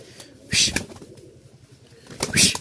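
Rajshahi tiger giribaz pigeons cooing and fluttering, two bursts of sharp wing flaps with soft low coos murmuring between them, close by.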